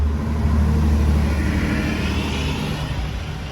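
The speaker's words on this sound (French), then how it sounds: "C'est le pire bruit d'une BM que j'ai entendu de ma vie." A BMW sports car's engine and exhaust, heard close with a steady, loud droning roar that holds through the whole stretch, with a whiny, vacuum-cleaner-like tone, amid other sports cars in a traffic jam near Paris.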